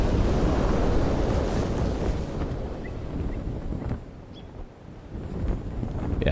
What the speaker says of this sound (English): riding on these gusts of winds, or gusts of wind